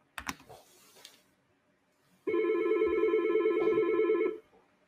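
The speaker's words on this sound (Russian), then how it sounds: "у нас входящий звонок, звонит телефонный аппарат, и как вы можете слышать, у нас звонит сам спикерфон" A Yealink IP desk phone rings for an incoming call through its speakerphone, giving a loud, steady electronic ring tone of about two seconds that starts after a few brief knocks and clicks.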